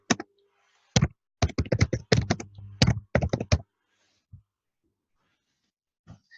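Quick bursts of close, crisp keyboard clicks in short rapid runs, followed by a few faint taps and quiet pauses.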